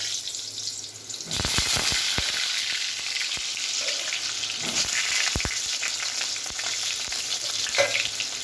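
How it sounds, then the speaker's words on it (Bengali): Potatoes frying in mustard oil in a wok make a loud, steady, close crackling sizzle, punctuated by sharp clacks and scrapes of stirring. "কড়াই আমি তেল দিয়ে দিয়েছি সর্ষের তেল এবার আমি আলুগুলোকে ভেজে নেব"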